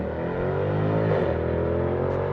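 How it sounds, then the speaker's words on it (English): A Mercedes-AMG car's exhaust roars as it sweeps past, its engine tone rising then dropping in pitch during one quick, loud pass. "Random AMG with a flyby and some little exhaust tones for us."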